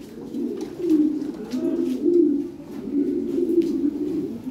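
Lahore pigeons coo close by in repeated low, throaty rolling phrases, several overlapping calls in a steady rhythm.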